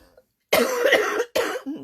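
Two sharp, close coughs from an adult with allergies, a longer harsh burst followed by a shorter one in an otherwise quiet room.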